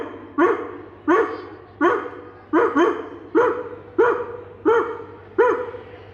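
A mimicry performer at the Kerala school arts festival imitates a dog barking, eight or nine short, sharp barks at a steady, slightly uneven pace, close and fairly loud.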